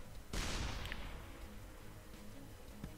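A palm-tree-shaped weapon detonates in the artillery game ShellShock Live: one loud, sudden burst followed by a long, fading rumble and scattered crackling debris, with no talk over it.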